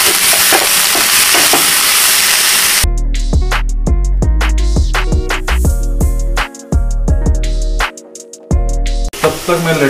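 Paneer and capsicum fry in olive oil in a pan, giving a loud, close, broadband sizzle for a few seconds before music cuts in and takes over.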